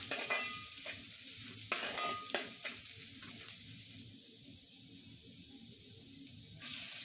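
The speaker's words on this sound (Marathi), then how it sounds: "आला लसूण पेस्ट चांगली परतवून घेतली आहे।" Ginger garlic paste sizzles steadily in hot oil in a pan for a fish curry, with a continuous frying hiss broken by several sharp stirring scrapes near the start and a louder burst at the end; no talking.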